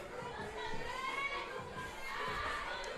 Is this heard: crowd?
yes